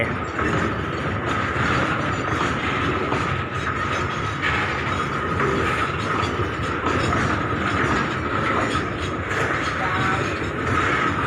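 Special express train No. 7 rolls past Chum Saeng station in Thailand with a steady, dense rumble and rhythmic rail clatter that stays loud and close throughout.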